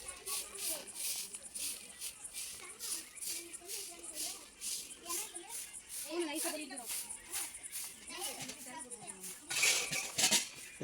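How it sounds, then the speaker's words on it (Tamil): Metal cooking pot set down and handled in a home kitchen while making country chicken rasam, with repeated clinks and scrapes of pans and utensils under ongoing conversation. "அப்போ சட்டி வச்சாச்சு"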